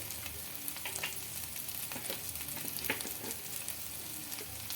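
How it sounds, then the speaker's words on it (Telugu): Spices frying in oil in a pan for a wheat flour and egg breakfast dish, giving a steady, close, dense sizzle with occasional brief stirring scrapes, with no talking. "ఈ మసాలాలు కూడా కొద్దిగా ఈ ఆయిల్లో ఫ్రై అవ్వాలి"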